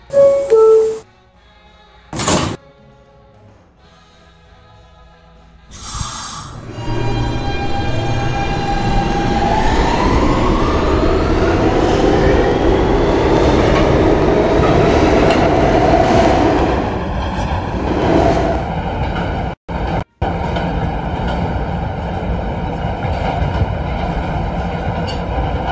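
A Roblox video game R160B Siemens E subway train starts up after a few clanks, its electric motors whining upward in pitch over a loud, steady rumble of wheels on rails.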